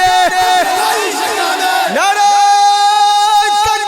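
A large crowd at an Islamic sermon loudly chants Allahu Akbar in unison, a powerful massed roar of voices rising and falling in steady waves throughout.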